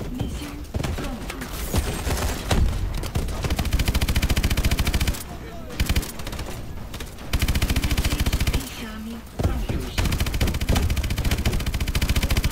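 Rapid bursts of automatic gunfire from Call of Duty: Advanced Warfare on PS4 rattle loudly, broken by brief pauses, with dense crackling shots throughout.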